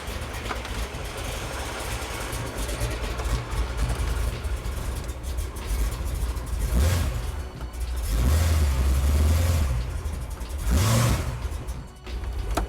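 A supercharged 1967 Chevrolet Camaro backs up in reverse, its engine idling with a low rumble and several short revving swells, close by and without talking.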